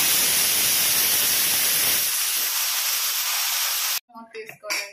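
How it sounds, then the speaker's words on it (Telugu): A pressure cooker on a stove vents steam while cooking dal with sessile joyweed leaves, a loud, steady rushing hiss that thins out before cutting off, followed by a brief voice. "5 విజిల్స్ వేయించుకునే వరకు ఉడికించుకోవాలండి కుక్కర్లో."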